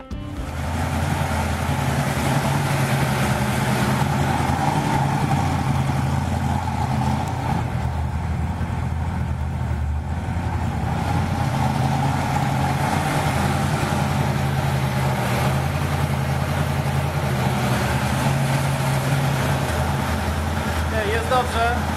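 A Ford Mustang II engine idles just after carburettor work, a loud, continuous rumble at slightly uneven revs, with someone talking over it throughout.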